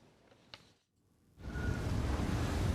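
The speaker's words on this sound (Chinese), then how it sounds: "研究船伫无算平静的海边行，这是伫纽西兰南岛东边的外海" Rough sea waves surge around a research ship in open water near the Bounty Islands, east of New Zealand's South Island. A brief lull gives way to a loud, steady wash of water and wind noise.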